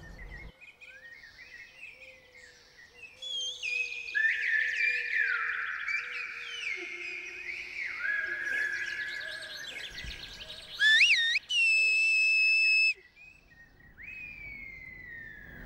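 Human whistled speech of the Canary Islands, silbo, used by inland farmers herding livestock, rings out as a series of sliding high-pitched whistles with gliding contours and brief pauses, loud and clear over a faint steady background, with no talking.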